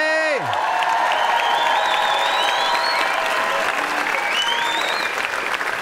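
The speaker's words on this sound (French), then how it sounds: "on peut les applaudir bien fort" An audience applauds two comedians, a steady, dense wash of clapping filling the room, with a brief voice at the start.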